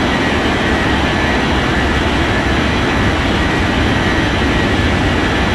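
Airliner taking off in the air traffic control game Unmatched Air Traffic Control, a loud, continuous jet engine roar with heavy low rumble, steady and close, no voices.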